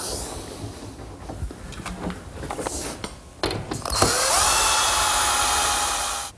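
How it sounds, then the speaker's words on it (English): Workshop clatter and tapping while a cleat is set on a kitchen island cabinet, then a power drill drives screws with a loud, sustained whirring whine that runs close up until it winds down. "And I'll attach it with some more screws."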